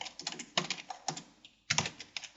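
Bursts of fast typing on a computer keyboard while writing PHP code, clattering in several quick runs with short pauses between them, close and clear with no talking.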